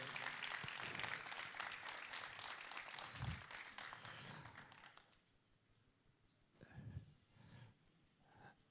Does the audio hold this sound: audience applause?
yes